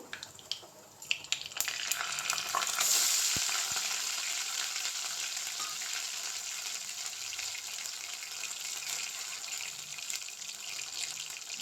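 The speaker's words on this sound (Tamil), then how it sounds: "இஞ்சி வந்து பச்சை வாசனை போக வரது நல்லா வதக்கி விடுவோம்" Ground ginger sautés in a hot pan with popped mustard seeds and curry leaves, a steady loud sizzle and hiss that flares after a few clattering stirs and then holds evenly, with no voices.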